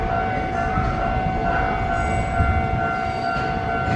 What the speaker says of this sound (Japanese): 電車到着いたします